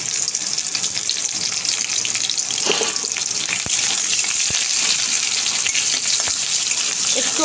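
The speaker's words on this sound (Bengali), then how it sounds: "এই পটল ভাজার তেলের মধ্যে কিছুটা পেঁয়াজ কুচি" Chopped onion drops into the oil left from frying pointed gourd and sizzles loudly and continuously in a home kitchen pan, a dense, close hiss with scattered sharp pops throughout.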